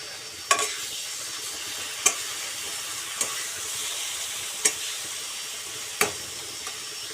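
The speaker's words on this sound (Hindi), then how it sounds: "आम जो अदा रसुण आ जीरार जो पेस्ट बनई आम एबे से" Ginger, garlic and cumin masala paste fries gently in a pan for a chicken curry, a soft continuous sizzle punctuated by five or six sharp scrapes of a spoon stirring at irregular intervals.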